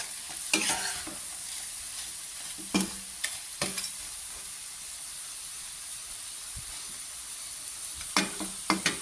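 Shrimp frying in a pan for sweet chilli shrimp, giving a steady hiss of sizzling oil with a few sharp clinks from stirring.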